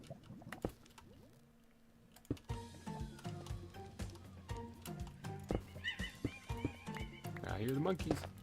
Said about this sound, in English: I hear the monkeys.